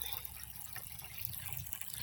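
Stream water pours steadily into a filling container, a continuous splashing trickle with faint drips, close and fairly quiet, with no one talking.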